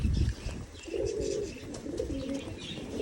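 Pigeons cooing in a village home, repeated throaty rolling coos close by, overlapping in a steady rhythm with no talk.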